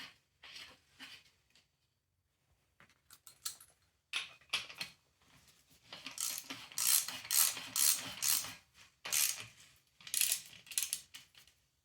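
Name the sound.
ratchet tightening drain cap on Honda CB350 engine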